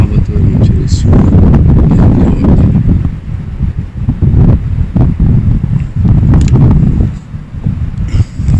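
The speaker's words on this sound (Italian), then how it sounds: "C'è un po' di vento" Strong gusty wind buffets the microphone in loud rumbling bursts, with a faint sea-like wash underneath.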